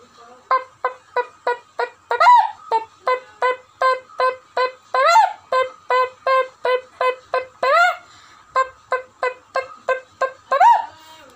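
A voice imitates a chicken with a long run of rapid, evenly spaced clucks, broken now and then by louder squawking notes, close and clear.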